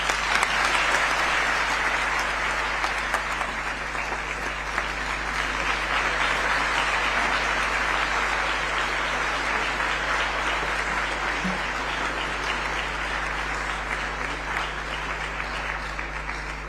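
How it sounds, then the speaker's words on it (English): Sustained audience applause at the opening of the World Health Summit Regional Meeting, a broad continuous roar of many hands clapping that stays steady throughout. "Another round of applause for His Excellency and all the speakers"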